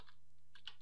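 A single computer keyboard key press, the enter key, gives a few faint, quick clicks close by in an otherwise quiet room.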